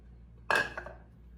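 A metal spoon scrapes and clinks once against a pan while chicken is stirred with tomato paste and spices, a short close clatter that fades quickly into quiet.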